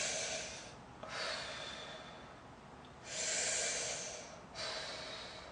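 Slow, deep breaths in and out while curled forward in a bending stretch with knees bent, close and airy, about four long breaths with no talking.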